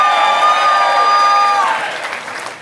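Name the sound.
audience applauding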